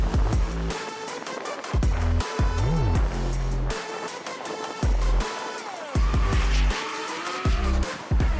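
Race cars drifting in a battle run at Dezzi Raceway, Port Shepstone, with loud tire squeal and engines revving and dropping in repeated surges as the cars pass close.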